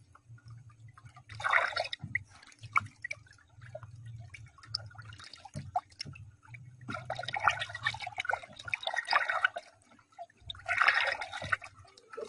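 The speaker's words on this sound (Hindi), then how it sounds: "उसे अच्छी तरह से आप मिक्स कर लें।" Salt stirred by the spoonful into water in a small container, to make a soak for washing a suit in winter. Gentle liquid swishes and trickles come in a few bursts over a low steady hum, with no talking.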